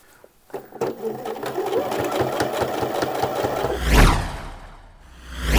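A sewing machine stitching a shirt seam, running in a fast, even mechanical chatter for a few seconds before stopping, close and loud, followed by a brief whoosh.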